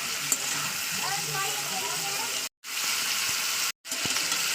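Chicken frying over a high flame gives a dense, continuous sizzle heard up close, briefly cut off twice near the end.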